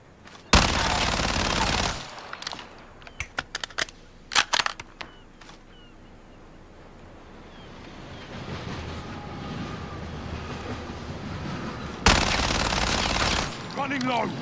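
Gunfire from a gun in a shooter video game played on controller: long roaring automatic bursts at the start and end, with a run of sharp single shots between them and quieter game ambience filling the gaps.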